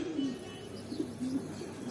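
A Bajri pigeon coos softly in a loft in Bhopal, giving a few low, rounded coo phrases close by with faint background hum and no talking.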